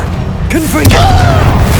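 A Confringo spell explodes in Hogwarts Legacy, a loud close boom with a swooping magical whoosh ahead of it and a ringing tail after.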